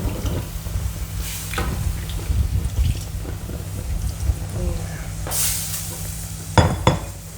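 Curry paste fries in a large pan of coconut milk with a steady sizzle, broken by stirring and scraping of a utensil against the pan and a few sharp clinks.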